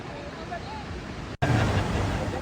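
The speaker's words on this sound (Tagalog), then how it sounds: "Rinig ang lakas ng ragasan ng tubig." Floodwater from an overflowing dam in Lubao, Pampanga, blocked by fallen trees and water lilies, roars in a dense, constant rush with wind buffeting the microphone and a brief cut partway through.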